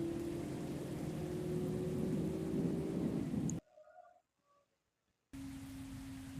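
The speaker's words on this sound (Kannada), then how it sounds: "ಇಲ್ಲಿ ನೋಡಿದ್ರೆ ಫುಲ್ ಮಳೆ ಐತಿ ಗೈಸ್" Steady rain pours down with rumbling thunder in the TATA Bus Simulator Indonesia bus driving game, a dense continuous wash that cuts out briefly to near silence with faint tones before the loud downpour resumes.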